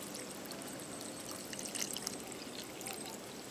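Water from soaked cooked rice is poured into a bowl, a soft steady trickle and splash heard faintly and close, with no talking.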